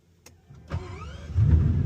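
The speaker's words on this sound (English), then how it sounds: "Engine start stops right there. So just foot on the brake and then" A Bugatti Chiron Super Sport engine starts up: a faint click and whir, then the engine catches at about three-quarters of a second and swells into a loud, deep idle rumble, close by inside the car.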